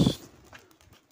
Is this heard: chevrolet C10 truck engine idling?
no